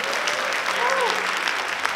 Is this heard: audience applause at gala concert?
yes